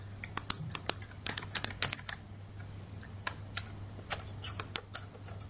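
A password is typed on a computer keyboard: quick, irregular key clicks in short bursts, close and fairly crisp, over a low steady hum, with no voices.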